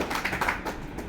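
Audience clapping in a hall during a talk about RCM, a short stretch of many hands clapping close together at a steady, moderate level, with a few distinct sharp claps.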